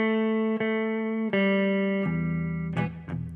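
Guitar plays a run of fourth intervals, each pair of clean notes picked and sustained in a slow sequence, close and clear, with no talking.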